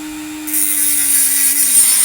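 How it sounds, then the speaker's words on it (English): A Dremel rotary tool cuts through a steel car wheel stud on the hub, a steady whining grind with a bright high hiss that kicks in after half a second and holds close and loud to the end. "To cut the wheel stud, I will be using a Dremel."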